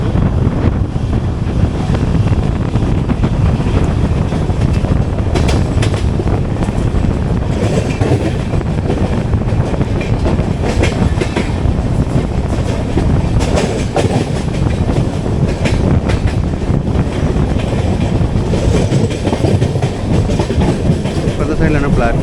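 The 12777 Hubballi Kochuveli Weekly Express runs on rails in AC Economy, with a loud continuous rumble and rhythmic wheel clatter under heavy wind buffeting for the whole stretch.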